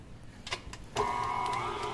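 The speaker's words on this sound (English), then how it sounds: "So we're going to turn our mixer back on." An electric stand mixer for cookie dough is switched back on after a couple of soft clicks, then settles into a steady, whirring motor whine at moderate volume.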